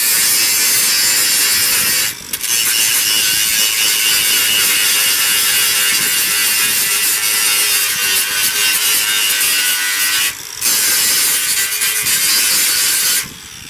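A DeWalt DCG412N 18V XR lithium-ion cordless angle grinder grinds down metal welds with a loud, harsh, continuous whine, close up, broken by three brief pauses as the disc lifts off the work.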